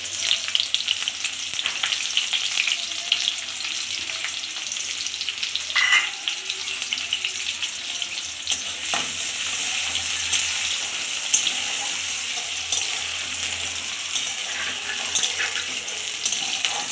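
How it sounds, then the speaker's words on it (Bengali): Chopped onions crackle in hot oil for a tangy-spicy bean paste dish, a dense, continuous loud sizzle that swells after a clatter midway and keeps going without any voices. "আমি তেলে পেঁয়াজটা দিয়ে দিলাম"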